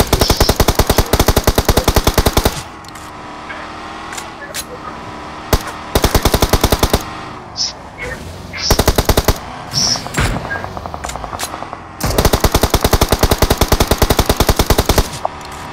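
Rapid automatic gunfire in the mobile battle royale game BGMI, loud dense bursts of several seconds separated by quieter gaps with scattered single shots and short volleys.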